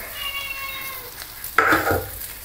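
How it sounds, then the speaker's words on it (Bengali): A cat meows for food with a drawn-out tonal cry, then fish fries in a pan of oil with a sudden burst of loud sizzling close by. "বিল্লিও ম্যাও ম্যাও করে খাওয়ার জন্য।"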